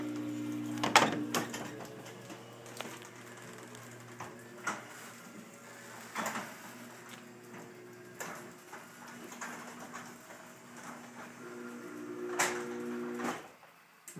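A 3800 jackshaft garage door opener closing a 16x7 garage door, quiet steady hum with scattered clicks and rattles, close by and without talk.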